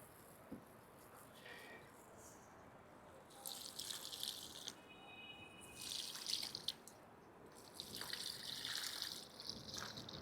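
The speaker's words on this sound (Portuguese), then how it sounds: "E agora eu vou aplicar na planta." Liquid fertilizer mixture poured from a container onto a struggling gardenia plant, heard as wet splashing and trickling bursts in the middle and end of the clip, fairly close, with quiet gaps between pours.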